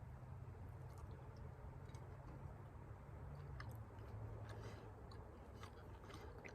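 Someone bites into and chews a slice of cinnamon-pecan coffee cake, with soft, moist chewing sounds close to the mic over a low background rumble and no talk.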